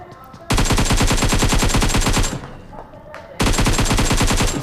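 Automatic gunfire in the Free Fire video game: two long, loud bursts of rapid, evenly spaced shots with a short quieter gap between them.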